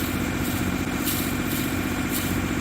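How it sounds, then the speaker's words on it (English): A Volvo Penta boat engine idles steadily with a low, even rumble, close and constant, with a faint rhythmic tick running through it at low RPM. "Engine doesn't sound too bad, but there's a noticeable tick at the lower RPM for the engine"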